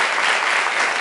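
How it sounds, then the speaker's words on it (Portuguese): An audience at a school event claps together in dense, sustained applause, loud and close for the full second with no voices standing out. "por gentileza, uma salva de palmas, pessoal."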